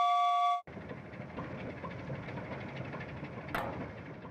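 A video game train rumbles past with a continuous low clatter after a brief tonal sound cuts off, and a sharp click lands near the end. No voices.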